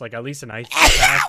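A single sharp sneeze bursts out loud and close right after a person finishes speaking.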